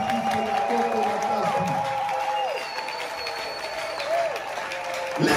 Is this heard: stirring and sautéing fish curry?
no